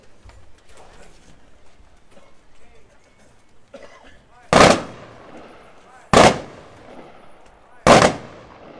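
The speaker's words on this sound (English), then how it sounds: "Gun salute will now be presented by American Legion Post 9" Three sharp rifle volleys fired by an American Legion Post 9 honor guard at a gun salute aboard the USS Silversides, spaced about a second and a half apart, loud and echoing after a quiet stretch of faint murmuring.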